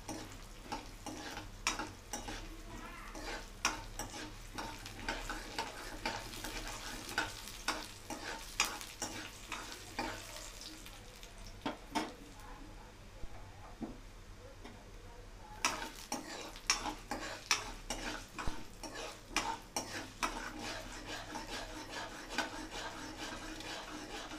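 Urad dal roasts in hot oil for curry leaf chutney, a close, steady sizzle broken by frequent scraping stirs of a spoon, with a brief quieter stretch midway and no talking.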